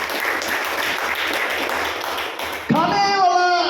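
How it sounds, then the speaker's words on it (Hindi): A gathered audience at a devotional talk applauds steadily for a couple of seconds, then the clapping gives way to a voice that rises over it. "जोरदार हाथों से तालियां इसके लिए।"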